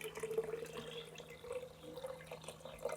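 Flower dye liquid poured onto a silk scarf, a soft continuous trickle and splash at close range, quiet and steady throughout.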